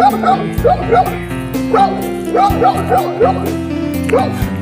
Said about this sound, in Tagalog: Tatapang itong mga aso na to.